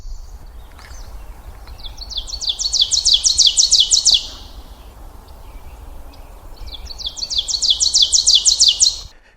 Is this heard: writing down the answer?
no